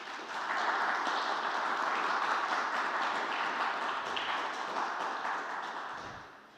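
A conference audience at the State of Mexico Congress applauds to welcome the vice president of the congressional board, a steady, moderate round of clapping that fades out after about six seconds.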